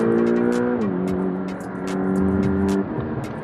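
Porsche 718 Boxster GTS with its 2.5-litre turbo four-cylinder engine pulls hard, its steady harmonic drone dropping in pitch as it shifts, then holding and fading slightly; a loud close-up engine note with road noise.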